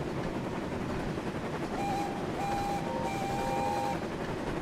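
A Shinkansen bullet train in a video game rushes past with a steady, loud roar and faint tonal whine, sustained throughout without talk.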